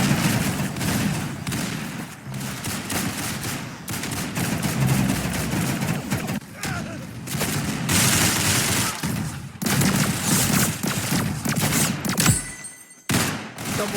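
Double barrel shotgun fire in a video game rings out amid a dense, nearly continuous barrage of gunshots, loud and close, ending in a brief drop-off near the end.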